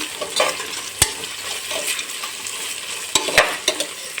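Onions and green chillies frying in a pan for peas pulao, a constant crackling sizzle with sharp spatula scrapes and taps against the pan at irregular intervals, close and without speech.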